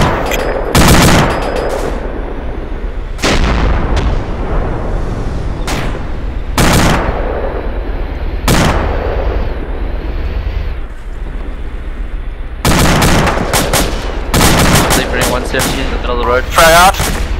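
Loud bursts of gunfire and heavy explosive blasts from a military video game set in Takistan, striking in irregular clusters over a constant battlefield rumble, with occasional voices.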